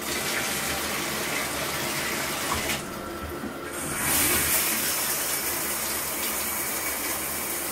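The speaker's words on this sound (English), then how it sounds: "turn the water as cold as you can" Cold shower water running from a showerhead, a steady loud rushing spray that briefly dips and shifts before gushing harder again, with no talking.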